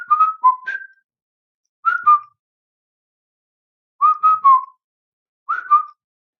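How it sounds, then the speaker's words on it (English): Human whistling used to demonstrate sound waves: four short melodic bursts of clear, fairly loud tones with pauses between them, heard alone with no talking. "You could try things like whistling."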